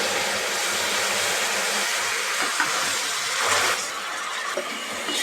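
Sugar syrup for a plum cake boils in a pan with a steady, broad hiss and bubbling rush, continuous and fairly loud, with occasional small pops.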